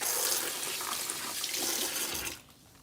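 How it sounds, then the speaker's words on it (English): Hands are rinsed under a running kitchen tap, a steady close splashing stream of water that cuts off abruptly just before the end. "Let me rinse my hands really quickly."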